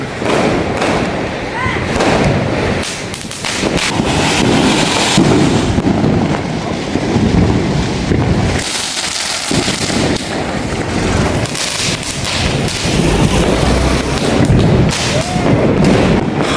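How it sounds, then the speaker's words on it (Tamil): Firecrackers burst continuously in the streets of Chennai during a celebration, dense loud cracks and booms layered over one another, with faint voices in the background. "பார்த்தீங்கன்னா முழுக்க முழுக்க வெடிதான்"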